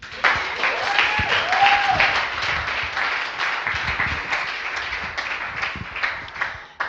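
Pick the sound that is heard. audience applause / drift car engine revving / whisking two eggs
audience applause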